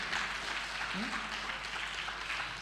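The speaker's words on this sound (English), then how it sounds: "Can we please give him a round of applause?" Applause at a talk on preventing sexual violence on Nigerian university campuses, a fairly faint, steady wash of clapping from a hall audience with a brief voice heard under it.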